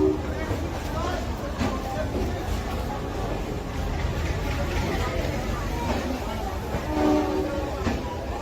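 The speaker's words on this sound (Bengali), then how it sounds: "ট্রেন ছেড়ে দিয়েছে হাওড়া স্টেশন থেকে।" The Howrah–Delhi Duronto Express pulls out of Howrah station, a close rumble of rolling rail cars under a steady hum of platform crowd chatter, with a short horn-like tone near the end.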